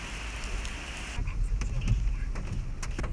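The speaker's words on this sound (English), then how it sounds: "And it's raining." Steady rain patters on a surface in China with scattered drops, and a voice speaks faintly underneath.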